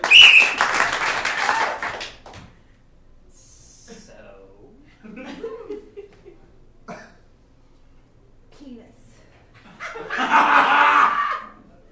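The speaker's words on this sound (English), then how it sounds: "one final time, audience clap" Audience applause at a live benefit comedy show for the Leukemia & Lymphoma Society, with a burst of clapping at the start and another swell near the end, separated by quieter stretches of coughing and murmuring.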